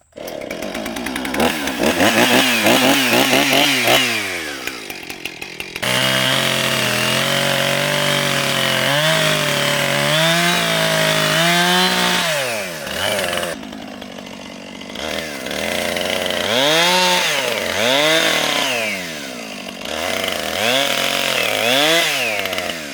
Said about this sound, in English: Let's see if I can even start a chainsaw.